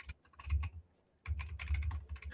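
Typing on a computer keyboard: close, rapid bursts of keystrokes, a short flurry, a pause of about half a second, then a longer run of clicks.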